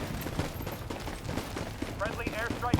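Gunfire in the World War 3 video game, with scattered shots and bursts at mid distance, some sharper near reports toward the end, all mixed with a busy battlefield din.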